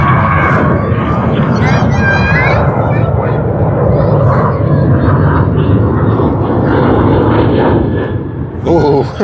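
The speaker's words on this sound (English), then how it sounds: "SQ232 has begun taxiing" Airliner flight SQ232 taxis at Sydney Airport toward runway 34L, its jet engines giving a loud, steady roaring drone that holds for several seconds while a person talks over it.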